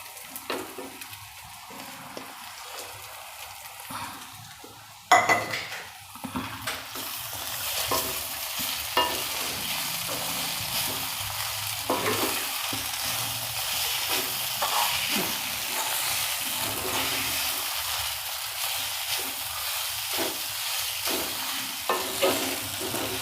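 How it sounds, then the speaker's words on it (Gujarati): Soaked poha tipped into a pan of cooked peas, stirred steadily with a sizzling, hissing fry that kicks in sharply after a quiet start and keeps going loud and close, broken by spoon scrapes. "હવે એમાં આપણે પૌવા નાખી દઈશું પલાળેલા"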